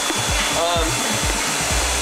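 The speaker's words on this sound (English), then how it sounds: "I'm just running the vacuum here." Vacuum cleaner running indoors, a loud steady motor whine with a regular low pulsing thump about twice a second, alone without talk.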